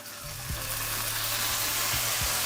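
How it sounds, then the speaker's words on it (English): Chips sautéing in melted butter with red chili and curry over medium heat give off a steady close sizzling hiss, with a few soft stirring knocks underneath. "I'm just gonna lightly saute these"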